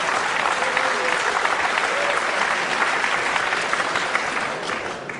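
Steady applause from an arena crowd at a professional pool match in Manila, Ralf Souquet versus Ronato Alcano, a dense sustained clatter of clapping that fades slightly toward the end.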